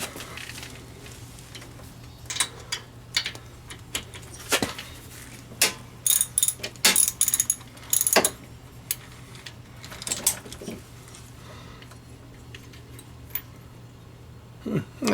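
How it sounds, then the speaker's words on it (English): A spark plug is loosened and pulled from a car engine with close, irregular metallic clicks, ratchet ticks and tool clatter over a quiet background hum. "I'm going to pull the back plug here"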